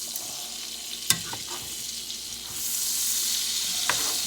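Quail frying in butter with seasoning in a pan, a steady broadband sizzle that swells louder midway, with a few sharp clinks of utensil against pan.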